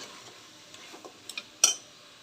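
Water bird curry frying in a pan, a spoon stirring and scraping against the metal at close range: a few soft clicks build to one sharp clank near the end over a faint steady sizzle.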